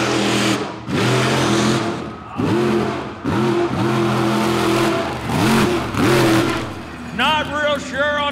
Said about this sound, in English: hear him burping the throttle.